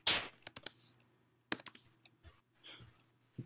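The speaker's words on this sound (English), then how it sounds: "So like type 2+4 or something." Keystrokes on a computer keyboard while entering a sum at a Ruby prompt: a few close, crisp clicks in short bursts with pauses between, fairly quiet.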